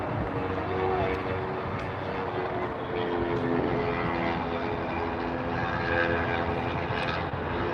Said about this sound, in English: Next is American Flight 3263, the 737 MAX 8 arriving from Kingston.